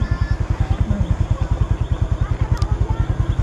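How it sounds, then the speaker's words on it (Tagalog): A motorcycle engine left running at idle gives a loud, close, steady thumping pulse with an even rapid rhythm that continues without change. "Hindi ko napapatayin yung makina."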